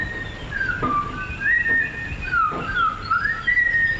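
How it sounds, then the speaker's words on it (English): A slowed-down whistle tape loop sounds as a low, gliding whistled melody that sweeps up and down over a continuous hiss, alone and steady. "I like the slowed down audio of the same whistle."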